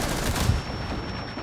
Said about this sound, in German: Ja, da kommen auch noch Schüsse davon.